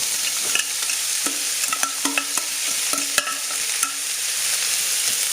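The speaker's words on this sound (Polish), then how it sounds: "Smażymy na razie około 5-6 minut, żeby nam troszkę zmiękły" Vegetables with garlic sizzle steadily in a hot pan while a utensil scrapes and clacks against it in irregular stirring strokes, close up.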